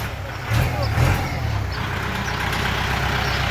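A truck fitted with a hydraulic lift system is driven out at a workshop in Kantharalak, Sisaket, its low engine rumbling steadily and close by while people talk over it.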